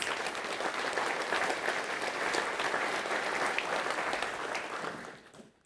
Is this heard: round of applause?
yes